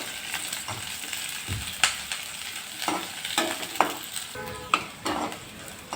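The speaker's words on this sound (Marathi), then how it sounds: "आता कांदासुद्धा आपल्याला असं परतवून घ्यायचा आहे." Sliced onion is stir-fried in a pan, a steady close sizzle broken by scraping and knocking strokes of the stirring utensil, with no one speaking.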